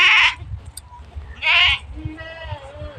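Two loud goat bleats, one at the start and another a second later, with soft voices and low rustling noise in between.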